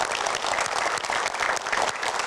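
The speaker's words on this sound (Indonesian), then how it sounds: "Boleh berikan tepuk tangan dong." Studio audience at a youth-inspiration TV show, with community groups present, applauding: dense, steady clapping sustained throughout, loud and close with no gaps.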